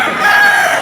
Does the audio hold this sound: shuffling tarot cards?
no